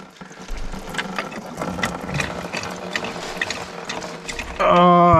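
Engine coolant pours and splashes steadily from a BMW E36 M3 engine during removal, a continuous liquid gush that ends in a louder rush at the finish.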